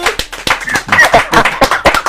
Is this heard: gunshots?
no